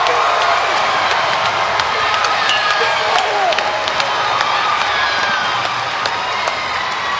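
Loud, sustained crowd applause and cheering fills a large arena at the Arnold Strongman Classic after Lucas Hatton completes three repetitions, with scattered whoops and shouts in a steady, continuous roar throughout.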